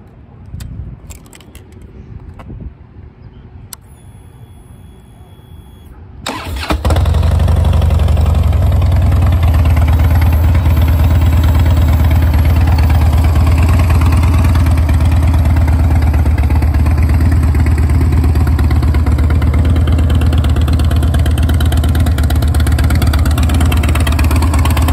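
A 2007 Harley-Davidson Dyna Street Bob fires up after a few quiet clicks and settles into a loud, steady, deep idle that continues alone for nearly twenty seconds.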